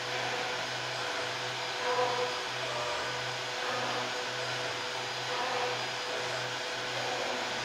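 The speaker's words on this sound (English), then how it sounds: "So as the machine's machining apart," HOMAG DRILLTEQ V-200 vertical CNC machine machining a part, a steady whirring drone with a faint pulsing low hum and slight swells, continuous and moderately near with no talking.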